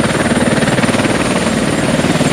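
A helicopter flies loud and close, its rotor beating in a fast, steady chop over a dense engine roar, as it works in and out of tricky landing zones. No voices are heard.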